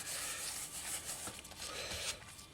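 Leather logo being rubbed in circles to work product into its grooves, a continuous close, soft scratchy friction with slight swells in loudness.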